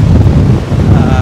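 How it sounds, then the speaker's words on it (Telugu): Strong wind buffets the microphone at the seashore in Antarvedi, Konaseema, as a loud, continuous low roar. Breaking waves can be faintly heard beneath it. "ఒకవైపు అయితే గాలి విపరీతమైన గాలి అన్నమాట"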